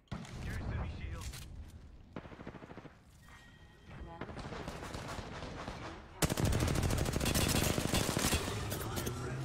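Automatic and single gunshots ring out in a fast-paced Apex Legends match, with near bursts of fire that grow denser and louder toward the end while a player talks over the action.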